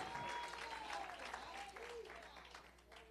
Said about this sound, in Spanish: ¿Cuántos dan una ofrenda de aplauso al Señor